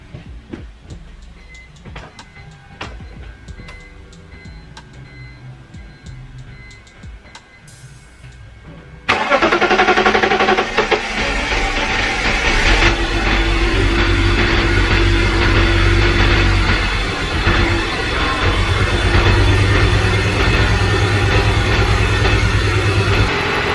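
A BMW 325i E46 sedan engine cranks briefly after some clanking, then catches and settles into a loud, steady idle that rumbles on continuously, its first startup after maintenance.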